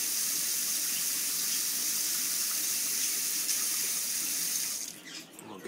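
Warm water runs steadily from a tap in a continuous close hiss while an egg is wetted during hand-hatching of a chicken, tapering with a brief splash near the end.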